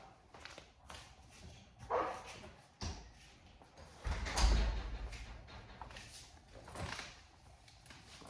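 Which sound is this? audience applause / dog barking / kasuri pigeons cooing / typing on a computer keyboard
dog barking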